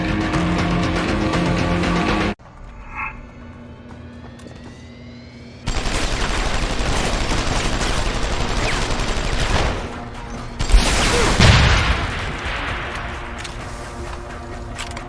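Heavy machine gun fire in the game Deus Ex: Human Revolution, a loud continuous rattle of rapid shots broken by a brief quieter lull, then resuming with nearby blasts.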